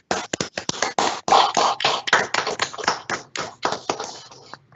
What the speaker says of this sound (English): Can we give Turaya a roll of clap?